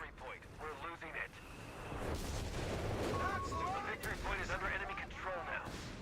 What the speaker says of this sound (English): Barrage coming in here